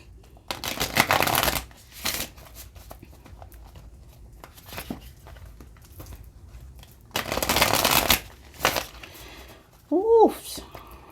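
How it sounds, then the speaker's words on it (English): A deck of cards is shuffled in several loud, crisp riffling bursts separated by quiet pauses, with a short vocal grunt near the end. "bear with me while I struggle with my life to shuffle all 80s of these cards"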